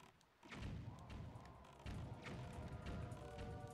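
Bombs exploding in The Legend of Zelda: The Wind Waker HD, a few dull low thuds and blasts in quick succession, muffled and fairly quiet.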